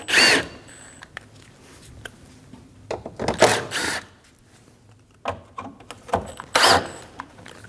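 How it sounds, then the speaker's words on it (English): Power drill with a T25 bit removing the screws from the front apron behind the bumper of a 2012-2022 Volkswagen Passat, with three separate short whirring bursts and quiet handling noise between them. "Using a T25 bit, remove the 3 screws off the front apron."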